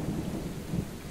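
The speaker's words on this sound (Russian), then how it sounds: "Смотрите, дикий ливень просто, гроза." Heavy downpour and thunder during a storm on a farm in the video game Left To Die, a dense steady roar of rain with a low rumble swelling briefly, loud and continuous without voices.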